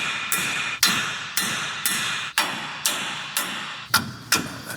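Hammer strikes on a Jeep Wrangler axle spindle, loosening the axle nut: nine sharp metallic taps in a fairly even rhythm, close and loud, each ringing briefly before the next blow, with no talking.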